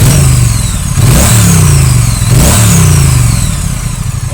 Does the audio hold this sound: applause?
no